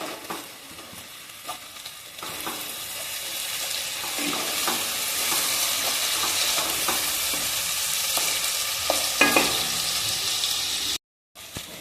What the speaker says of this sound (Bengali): টমেটোটাও আমি ভালোভাবে ভেজে নেব পেঁয়াজের সঙ্গে।